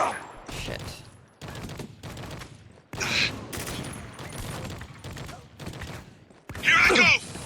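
Heavy automatic gunfire rattles in bursts in the shooter game Spec Ops: The Line, loud and close, broken by short pauses and a sharp blast near the end, with voices talking between volleys.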